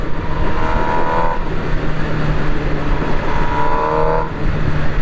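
MV Agusta Brutale 1000 RS motorcycle engine held loud and steady at high revs, with two brief rising rev swells over a constant throaty drone, close to the microphone.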